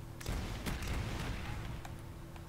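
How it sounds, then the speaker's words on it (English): Faint explosions and gunfire crackle in the video game Black Ops, a brief cluster of sharp booms and pops over a low rumble, distant and muted. "Explosions going off everywhere!"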